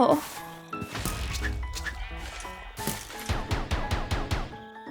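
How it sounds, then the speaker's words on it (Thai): Minecraft game audio with several short bleats from a goat, mixed with busy music-like tones and sharp effects, fairly loud and continuous throughout. "ทำไมแพะฉันถึงไปทำอะไรตรงนั้น"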